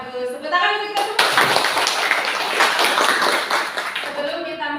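A class of schoolchildren bursts into loud, brisk applause that lasts several seconds, following a teacher's spoken greeting, with young voices mixed into the clapping.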